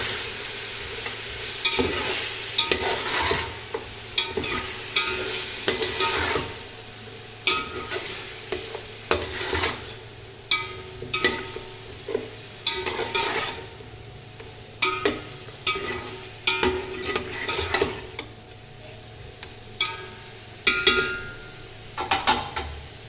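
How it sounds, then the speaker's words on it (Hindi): Chicken with garlic ginger paste fries in a pot for pulao while a spoon stirs and scrapes, rhythmic metallic strokes over a constant sizzle, close and without talk. "अभी देखिए गोश्त की भुनाई हो रही है।"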